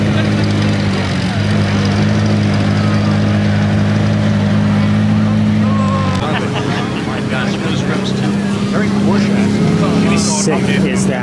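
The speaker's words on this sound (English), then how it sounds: "There goes a little bit of driving action for the Senna GTR." A McLaren Senna GTR race car drives past at Monterey Car Week, its engine a loud, sustained roar that shifts in pitch partway through, mixed with crowd and outdoor noise while people talk nearby.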